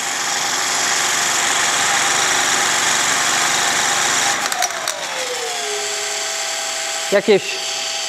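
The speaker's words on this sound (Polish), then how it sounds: "I maksymalna możliwość wkrętarki." A cordless drill at full speed spins a Vevor 12V 800W wind turbine, making a loud, steady mechanical whine. A few seconds in, the pitch sags lower, and brief clicks and rattles follow.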